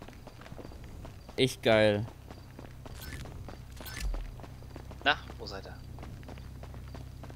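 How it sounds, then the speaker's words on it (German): Footsteps in GTA Online tap along steadily under a game ambience, while a few short spoken exclamations break in over them. "Alter, ich höre hier überall Schritte."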